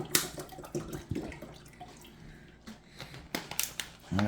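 Water splashes unevenly into plastic water bottles being filled one after another, with irregular gushes and drips close by and no voices.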